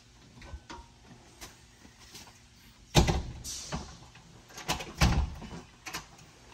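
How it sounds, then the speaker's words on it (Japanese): A key turning in a factory door lock at night in Japan, heard as a few close metallic clicks and clunks with a louder rattle partway through, in an otherwise quiet space with no talk. "鍵閉めるね。"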